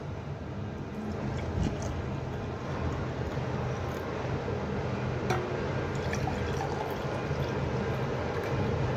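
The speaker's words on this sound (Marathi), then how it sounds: "आपला रस आता गाळून रेडी आहे, तो मी सर्विंग ग्लास मध्ये ओतून घेते" Strained pomegranate and chia seed juice poured into a serving glass, a soft continuous liquid trickle and drip at low level with faint scattered clinks, no talking.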